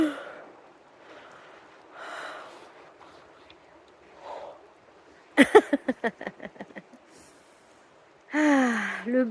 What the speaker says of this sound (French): Ah, le bâillement.